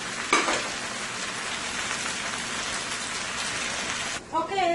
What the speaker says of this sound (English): right now I'm going to let my potatoes fry nicely there